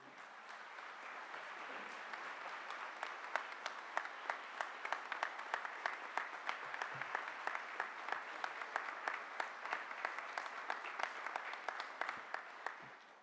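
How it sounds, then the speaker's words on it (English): Applause from the audience at a building trades press conference, many hands clapping in a sustained fairly distant patter with sharper individual claps standing out, lasting over ten seconds before it fades. "Thank you for the applause and thank you for the standing"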